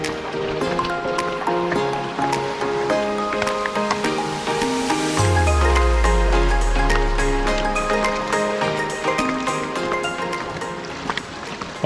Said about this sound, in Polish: I tutaj tak woda wpływa w tą szczelinę.